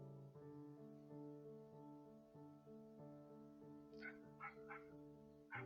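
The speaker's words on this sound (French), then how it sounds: "Et ça, c'est mon chien qui aboie." A pet dog barks a few times indoors, faint and distant, behind a steady tonal hum.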